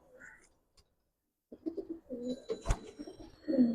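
Pigeons of fancy breeds coo softly nearby in low, throaty bursts, with a brief quiet gap before the cooing picks up again.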